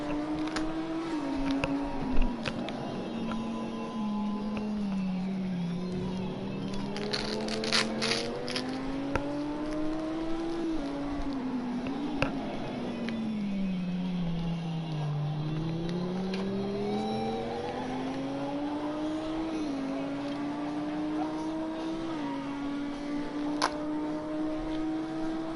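Race car in Fuji GP practice, a continuous loud engine whine that climbs and dips in pitch through gear changes and corners, with a few faint clicks.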